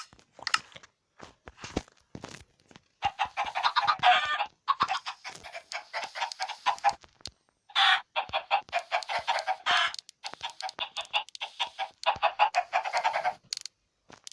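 Dense, busy clucking from a flock of chickens in Minecraft, with rapid overlapping calls and occasional crunchy clicks, fairly loud and close throughout.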